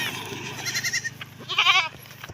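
Pet goats bleat close by in a few short, wavering calls over a quiet farmyard background, one louder bleat standing out near the end.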